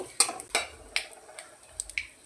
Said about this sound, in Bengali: কেটে রাখা আমগুলো আমটা তেলের মধ্যে দিয়ে একটু ভালো করে নাড়াচাড়া করে নিয়েছি